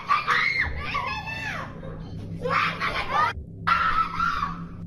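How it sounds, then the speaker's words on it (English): High, strained screams from children in a residential neighborhood at night, several loud wailing bursts with brief pauses between them, set against a busy crowd-like background. "As night fell, frightening screams broke the peace in the neighborhood."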